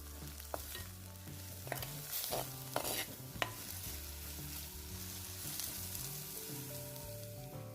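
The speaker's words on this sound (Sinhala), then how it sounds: "ඊට පස්සේ මේ ඔක්කොම ටික සාමාන්‍යයෙන් ඉදිරි විනාඩියක් විතර හොඳින් තෙම්පරාදු කරගන්න" Ingredients for egg curry sauté in a pan with a soft, constant sizzle, broken by a few stirring clicks and scrapes of a spoon against the metal.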